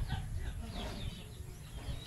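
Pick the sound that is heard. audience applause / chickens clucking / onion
chickens clucking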